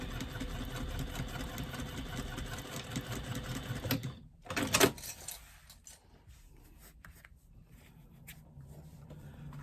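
A sewing machine stitches a lining seam for a retro clutch at a 3/8 seam allowance, running in a steady close whir for about four seconds before stopping with a brief clatter, then quiet handling noise.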